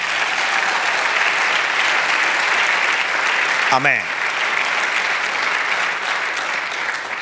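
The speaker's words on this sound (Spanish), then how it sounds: "Dale un aplauso al Señor." Church congregation applauding the Lord during a Spanish-language sermon, a steady sustained wash of clapping throughout with a brief spoken word from a voice partway through.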